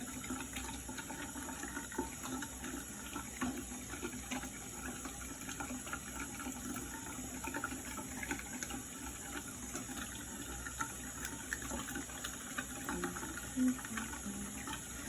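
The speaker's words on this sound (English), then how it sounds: "now I'm gonna wash my thumbs" Steady stream of tap water running into a sink during handwashing, a continuous low splashing hiss that holds evenly throughout, close and with no voices.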